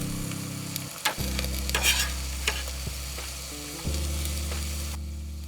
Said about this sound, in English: We're gonna add some olive oil to our pot that's over medium-low heat and add our onions, carrots,